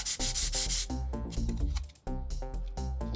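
Metal rubbed rapidly back and forth against a file, a loud harsh rasping in quick repeated strokes with a brief pause partway through.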